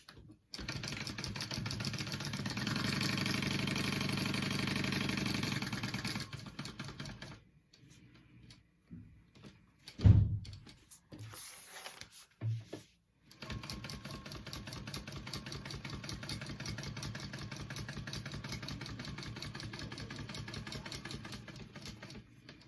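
A sewing machine stitches a teddy backpack, running in two long close bursts of rapid, even whirring separated by a quiet gap with a few handling knocks.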